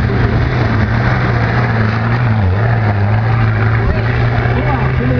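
Vehicle engine running steadily with a constant low drone and a slight pitch dip midway, loud and close throughout, with a voice faintly in the background.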